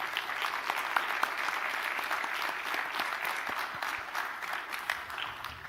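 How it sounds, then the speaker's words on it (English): An audience at a candidates' forum claps steadily for the candidates, a dense, even wash of applause held at a moderate level from start to finish with no voices over it. "I'd like you to give our candidates all a round of applause"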